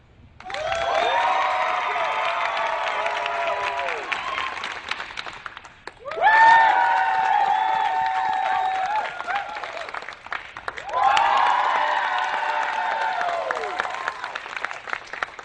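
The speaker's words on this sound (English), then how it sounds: "let me get applause one more time" Three bursts of audience applause mixed with cheering for debate contestants at an alumni event, each lasting several seconds, separated by short gaps, loud and full.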